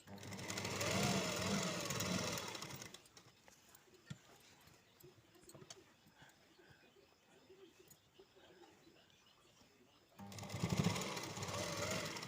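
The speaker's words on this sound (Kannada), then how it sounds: "ನಂತರ ನಾವು ಲೈನಿಂಗ್ ಸುತ್ತ ಸ್ಟಿಚ್ ಹಾಕಬೇಕು." A sewing machine stitches around the sleeve lining of a buff sleeve in two loud, steady bursts of rapid running, separated by a long quiet pause with faint handling noises.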